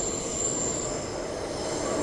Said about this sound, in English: And our train is arriving on platform 9